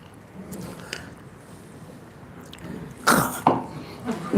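A person coughs twice in quick succession near the end, loud and close, after several seconds of quiet room noise; no talking is heard.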